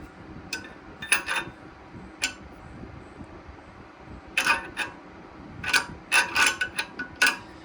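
A ratchet clicks in quick bursts on a stripped disc brake caliper bolt, with close, sharp metallic ticking runs that cluster toward the end.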